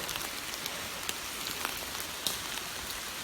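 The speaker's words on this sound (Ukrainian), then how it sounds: "Дощара лупить і лупить, блін" Heavy rain pours down in a dark forest, a steady hiss of drops drumming on leaves and the ground with scattered sharper splashes, close and continuous with no talk.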